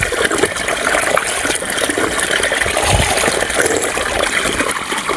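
Fresh water gushing steadily from a newly drilled farm borewell, a dense continuous rushing splash that stays loud and even throughout, with no voices over it.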